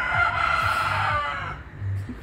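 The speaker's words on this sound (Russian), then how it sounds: "Петух." A rooster crows once, a drawn-out strained call that fades out, with faint low background noise underneath.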